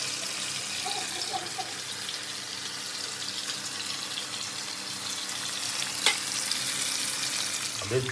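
White pomfret fish sizzling steadily in hot oil in a pan, a continuous dense frying hiss with a single sharp clink near the end as the pieces are flipped, no talk.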